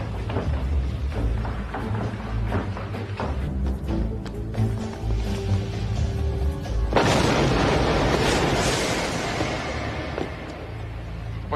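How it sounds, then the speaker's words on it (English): An explosion in a War of the Worlds sci-fi TV episode lands as a sudden loud, broadband boom partway through, following a stretch of dramatic score and ambience, with a rumbling roar trailing off afterward. "What's that explosion?"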